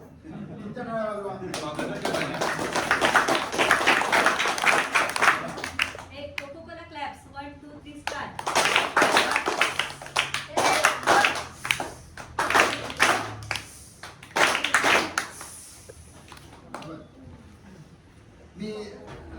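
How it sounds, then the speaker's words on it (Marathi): Schoolchildren clap together at a Zilla Parishad school gathering in Usgaon, a dense burst of applause that swells and fades in several waves, mixed with an adult voice speaking over the crowd. "आमच्या टाळ्या वाजवा, तुमच्या टाळ्या वाजवा."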